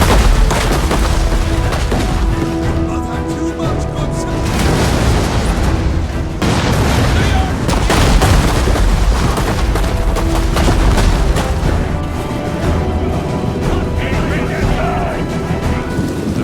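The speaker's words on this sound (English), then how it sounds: "the Burgundian cannons tore down a section of the wall" Dense, loud video game battle noise with repeated heavy medieval cannon booms and crackling blasts, continuous and chaotic throughout, with voices faintly mixed in.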